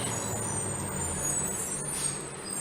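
A truck rolling past nearby, its engine noise steady and a high hiss of air brakes cutting through, fairly loud with no talking.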